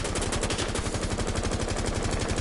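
Rapid, continuous machine gun fire from a video game, loud and close, with evenly spaced bursts running throughout and no speech.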